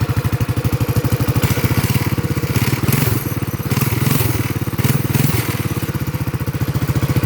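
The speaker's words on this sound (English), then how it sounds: "My bike does have a straight pipe exhaust that sounds like a real motorcycle," A mini bike engine with a straight pipe exhaust runs close and loud, giving a rapid, rhythmic popping throb with slight swells in revs throughout. No one speaks.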